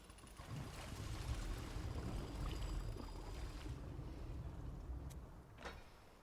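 Water flowing out in the puzzle game Chants of Sennaar, a steady broadband rush with low rumble that eases slightly toward the end, broken by a couple of faint sharp ticks near the close.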